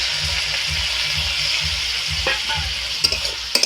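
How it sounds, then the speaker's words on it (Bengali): Capsicum and potato sautéing in a pan, a steady loud sizzle with rhythmic stirring scrapes, and a few sharp clinks of the spatula near the end. "কয়েক মিনিট আমি এইভাবে কষিয়ে নেব"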